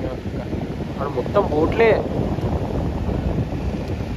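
A light, steady breeze blows across Chirala beach at sunrise, a soft continuous rush of air on the microphone beneath friends chatting close by.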